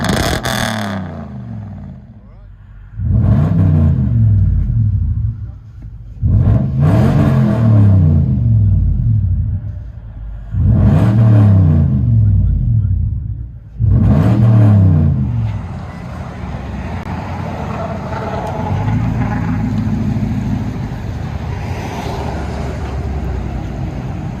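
A 2006 Toyota Tundra 4.7L V8 with true dual straight-pipe exhaust revs four times in deep, loud, rumbling surges, each dropping back to idle, then settles into a steady burbling idle.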